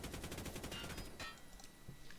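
Rapid automatic fire from a QBZ-191 rifle in a Minecraft gun mod, a fast even burst of sharp shots lasting over a second, then a short pause and a few more scattered shots.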